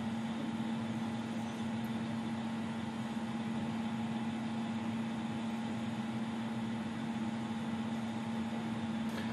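An automated wheel spray paint machine turns a wheel rim a full 360 degrees, giving a steady, even motor hum with a constant tonal drone and no break or change throughout.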